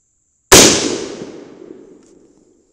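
An unsuppressed .22 Nosler rifle fires a single shot: a sudden, very loud crack up close, followed by a long echoing tail that fades over about two seconds.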